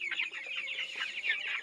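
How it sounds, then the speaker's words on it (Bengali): Young roosters and chicks cluck and peep busily together, a dense, moderately close chatter of short overlapping calls with no voices. "এগুলো কিন্তু মোরকের বাচ্চা, এগুলো কিন্তু মোরগ।"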